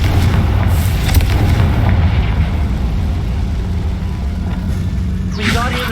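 Confringo fire spell blasting in Hogwarts Legacy, a booming fiery burst with rumbling explosive crackle and a brief whooshing streak near the end, loud and continuous over game ambience.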